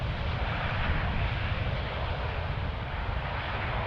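An airliner rolling along a runway at Amsterdam Schiphol Airport after landing, giving a steady, broad jet engine roar that holds even and loud throughout.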